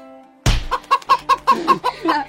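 A chicken clucks in a quick series of about eight sharp, rhythmic calls after a sudden thump of a bouncing ball hitting its head, loud and close.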